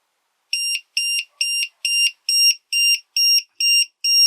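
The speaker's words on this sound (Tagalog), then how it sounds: "Yan siyang dalawang malaking buzzer" A Power Wall Mini battery's pair of large plastic-wrapped buzzers sounds a loud, shrill alarm in nine evenly spaced pulses, close up and alone.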